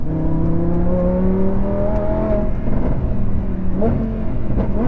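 The V10 engine of a Lamborghini Huracan LP580-2 drones loudly from inside the car on a UK road, its pitch stepping during downshifts over steady road and wind noise.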